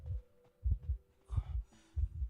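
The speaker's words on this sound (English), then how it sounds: "I have a very heavy heartbeat" A heavy heartbeat warning from the game Identity V thumps in pairs of deep, loud beats, repeating in a steady throbbing rhythm under a faint background hum.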